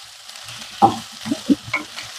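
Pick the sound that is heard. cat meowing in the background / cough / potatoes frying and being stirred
potatoes frying and being stirred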